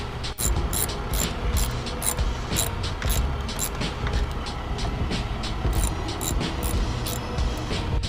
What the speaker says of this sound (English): you're gonna need a 10mm socket